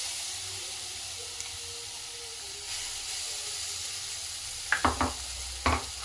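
Spinach gravy sautés in a pan for palak paneer, a soft continuous sizzle and hiss, then a few close scraping stirs near the end; no voices.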